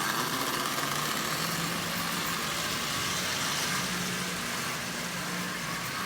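A Marx 595 toy train locomotive, resprayed black and fitted with an electric motor built from parts, runs with a steady, continuous whirring hum that stays even throughout, with no other sounds.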